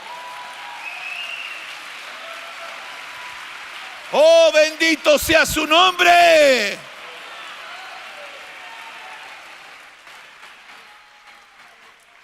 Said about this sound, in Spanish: Alguien dele palmas al Señor.